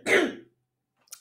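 A person with a cold clears their throat in one rough, close burst that fades, followed by silence and a faint short sound at the end.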